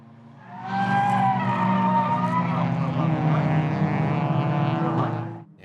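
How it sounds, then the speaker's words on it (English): Cheap race cars at the Baskerville 1000 roaring past on the track, a loud engine pass that swells in and fades out with a whining tone over several seconds. "Drivers pushed themselves to the limit, with some coming unstuck, one car having a near miss on the home straight."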